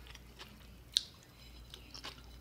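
Soft, close chewing of a Chipotle burrito during a quiet mukbang eating session, with faint moist bites and one brief crisp crunch.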